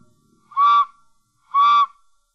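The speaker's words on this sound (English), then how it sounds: "And that whistle, for people that grew up with the Helms Bakery between 29 and 69, it brings back memories." Whistle of a 1931 Helms Bakery bread truck sounds twice, each a bright, steady tone lasting about a third of a second, separated by a short pause and heard clearly with nothing else around it.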